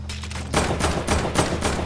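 Video game gunfire cutting in abruptly after a quiet moment, a rapid burst of loud, close shots in quick succession with a brief pause between volleys.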